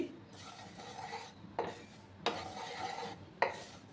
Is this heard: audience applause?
no